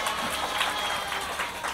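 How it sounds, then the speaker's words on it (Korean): Applause from a youth forum audience at a world toilet culture event, a dense steady patter of many hands filling the short moment without a break. "다시 한번 큰 박수 부탁드립니다"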